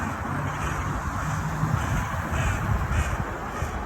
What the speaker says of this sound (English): There's two bloody crows fighting over.